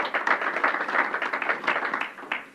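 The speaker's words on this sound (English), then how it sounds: "Let's give him a round of applause." A short round of applause at a New York state COVID-19 briefing, brisk scattered clapping from a modest audience, moderately loud and fading after about two seconds.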